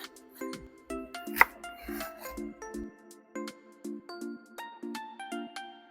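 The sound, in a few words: knife cutting the roots off green onions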